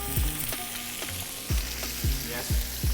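Lamb loins sear in a pan with a knob of unsalted butter, giving a loud, constant sizzle and hiss close by, with a steady series of deep rhythmic thumps underneath.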